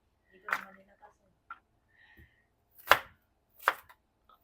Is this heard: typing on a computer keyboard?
no